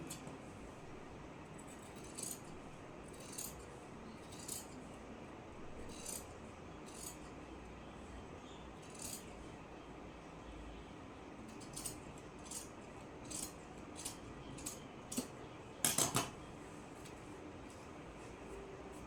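Scissors cut through blouse fabric, giving a string of short, faint rasping snips spread irregularly through a quiet room, with a tighter cluster of louder snips near the end and no talk.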